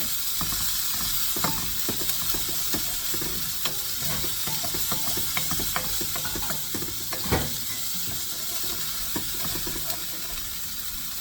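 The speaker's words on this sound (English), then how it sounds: "as you saute the onions, do you notice how it's taking the drippings up from the pan?" Onions sautéing in a pan with beef drippings for a ragu, a steady close sizzle with frequent scraping and clicking stirring sounds, no talk.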